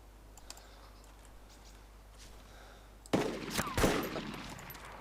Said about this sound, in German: Achso, du schießt.